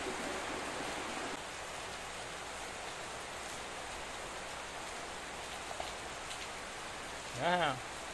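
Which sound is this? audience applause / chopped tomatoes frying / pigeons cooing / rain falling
rain falling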